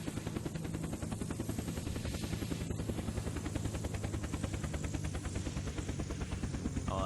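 A helicopter in the game Unturned comes in to land, its rotor thumping in a fast, even chop at close range throughout, steady and loud with no talking.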